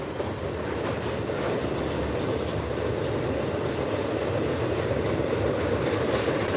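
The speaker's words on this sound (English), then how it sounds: "That train is only about 30 yards away from me." A train rumbles past about 30 yards away at night, a steady low roar of wheels on rails with faint clacking, continuous throughout without voices.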